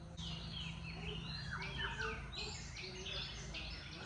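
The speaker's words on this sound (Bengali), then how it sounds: "দেখেছো কি সুন্দর পাখির ডাক শোনা যাচ্ছে" Birds sing around a homestay in Sigiriya, Sri Lanka: a steady run of overlapping chirps and warbles, moderately close, over a constant outdoor hum with no talking.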